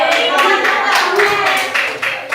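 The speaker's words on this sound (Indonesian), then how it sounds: "Tepuk tangan untuk semua." Children clap together in a classroom during a Sundanese-language lesson, giving several quick bursts of applause with a rough, uneven rhythm, close and fairly loud.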